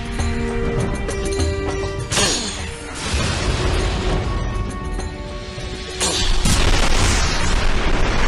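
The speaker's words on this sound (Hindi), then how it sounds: "इसे तोप से उड़ाना पड़ेगा।" A cannon blast booms with a heavy low rumble and crash, followed by a second loud burst, dense and close over a layered sound-effects background.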